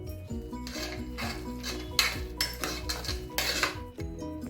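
A metal spoon stirring cooked sweet pongal of rice, lentils and jaggery inside a cooker, with repeated scraping and clinking strokes against the metal pot, close and fairly steady, with no talking.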